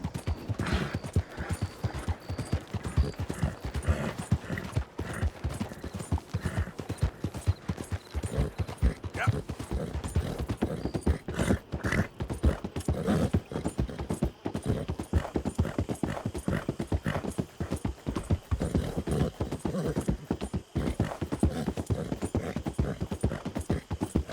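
Horse hooves clip-clop steadily in the Red Dead video game, a dense, continuous run of close, loud hoofbeats lasting throughout, with an occasional faint whinny.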